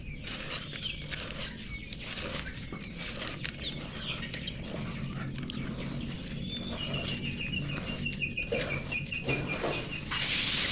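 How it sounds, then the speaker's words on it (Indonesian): Chickens in a coop clucking softly and chirping near feed being mixed, faint and scattered over steady rustling background noise. "Itu ada ayam juga yang ganggu ya."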